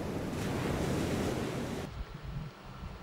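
Ocean waves crash against natural sea rock formations, a loud, steady roar of surf for most of the stretch before dropping abruptly to a quieter wash and wind noise.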